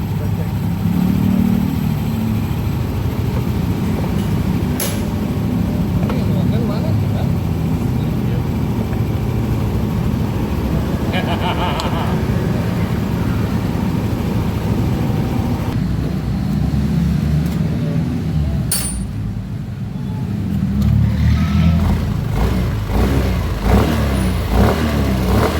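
A Yamaha NMAX 155 scooter with a CVT noise problem idles and revs, its engine drone running continuously and loud throughout, with a brief easing around the middle before it picks up again, and a voice talks over it.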